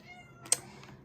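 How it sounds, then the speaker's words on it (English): A house cat lets out one short meow, faint and brief in a quiet indoor room, with light keyboard-like tapping around it. "And you might hear a meow, that's my cat."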